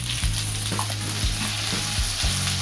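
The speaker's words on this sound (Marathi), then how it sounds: "कांदा टाकून टाकलाय कढईमध्ये आणि कढीपत्ता टाकलाय" Chopped onion and curry leaves sizzle loudly in hot oil in a kadhai for a bottle gourd dish, a steady close frying hiss with regular low scraping strokes of a spatula stirring.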